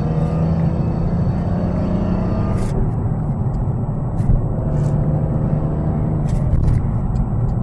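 A BMW M3 E46 engine runs with a steady, loud, droning rumble and a faint metallic tone, punctuated by a few brief clicks and ticks.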